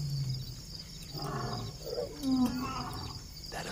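Wild lions roar near a camp in the bush as a few deep, rumbling calls roll in over the quiet background, carrying from a distance.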